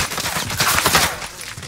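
Enemy gunfire in Call of Duty: Warzone, a dense burst of rapid shots crackling close by in the middle of a firefight, with no voices over it.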